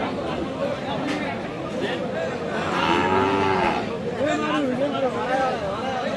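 Cattle low repeatedly at a busy rural livestock market in Aftabganj, Dinajpur, long drawn moos rising over a constant murmur of crowd chatter and bargaining voices.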